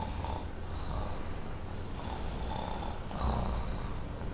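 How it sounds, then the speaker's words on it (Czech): A child snores loudly while asleep on an airplane seat: deep, rough breaths repeat in a steady rhythm of about one every second and a half, close and continuous over a constant cabin hum. "No, pořádně chrápe."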